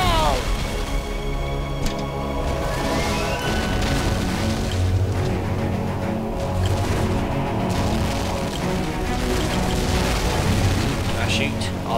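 Ship cannons boom repeatedly through a pirate naval battle in Port Royale 3, a dense, continuous barrage of low thuds and crashes layered over game music, with a voice talking now and then.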